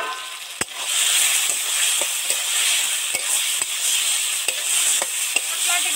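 Spices sizzling in hot oil for a fish egg curry while a spoon stirs them, giving a steady close hiss broken by sharp clinks of utensil on pan, with no talk.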